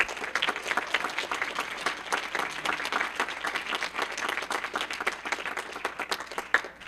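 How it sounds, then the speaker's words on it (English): A lecture-hall audience claps for the debaters after a constitution debate, dense, sustained applause from many hands that holds steady for several seconds with a few sharper claps near the end. "Let's go ahead and give our debaters a round of applause"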